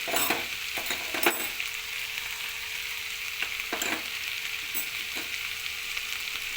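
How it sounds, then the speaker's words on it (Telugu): Ivy gourd curry with green chillies, cooked without water, sizzles steadily in a frying pan while a spoon scrapes and taps through it in irregular strokes, close and continuous; nobody talks. "ఇవన్నీ కలిసే వరకు బాగా కలుపుకోవాలి."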